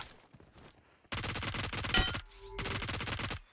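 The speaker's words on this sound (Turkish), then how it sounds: "Bir sürü mermi gitti boşuna." Loud, rapid automatic gunfire in PUBG Mobile: a short burst, a brief pause, then a long sustained volley that cuts off and resumes in another dense burst.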